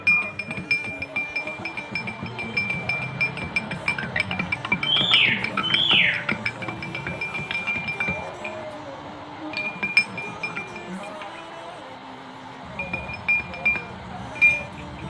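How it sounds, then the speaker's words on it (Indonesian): A spoon stirs milk and water together in a glass, giving repeated bright clinks against the glass under quiet background room noise; a voice speaks briefly. "Saya aduk sampai susu dan air itu menyatu menjadi larutan."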